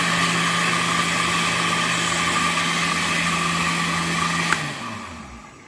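An electric blender whirs steadily at high speed while blending a nopal cactus toner, a loud continuous motor drone that winds down and stops near the end.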